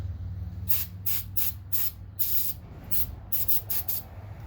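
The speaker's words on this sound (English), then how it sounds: "Brake cleaner," Brake cleaner sprayed on the rear brake caliper of a 2004 Volvo XC90 in a series of sharp hissing bursts, some short and some longer, close to the ear over a low background hum.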